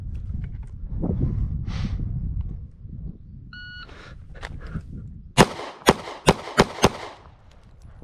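An S&W Shield 1.0 pistol fires a string of five sharp, loud shots in quick, fairly even succession at an outdoor range, after some rustling and a short electronic beep.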